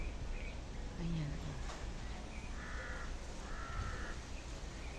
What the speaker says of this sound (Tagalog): May nahuning uwak.